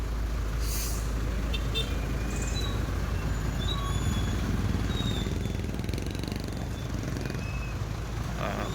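A large dump truck idles at a busy public market at night, hauling garbage; its steady low rumble fills the scene continuously, with faint chirps and clatter from the surroundings above it.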